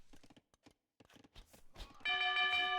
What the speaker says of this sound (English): the town bell is clicked, bringing everyone in